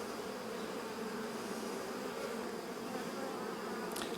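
Honeybees in an amateur beekeeper's open hive, passing food among themselves near the brood, make a steady, close, continuous buzzing drone that holds evenly throughout with no voices.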